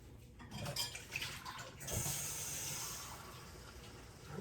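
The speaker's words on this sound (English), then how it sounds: "Then I'm going to get a cup of water." Water running from a kitchen tap into a glass cup while preparing baked turkey wings, a steady hiss of flow after a few clinks of dishes, close and moderately quiet.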